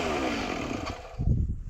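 A Stihl MS290 chainsaw engine sputters and fails to hold an idle, running rough up close before dropping off and surging again in uneven bursts.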